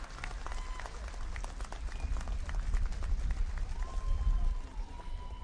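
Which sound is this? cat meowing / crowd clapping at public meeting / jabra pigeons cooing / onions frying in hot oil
crowd clapping at public meeting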